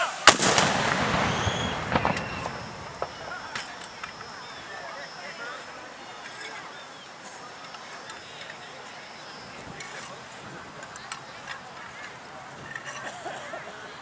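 A ceremonial cannon salute fired at a Confederate Memorial Day event held by Sons of Confederate Veterans in Savannah: one loud, close blast at the start, then a long rumbling decay over outdoor background noise and voices.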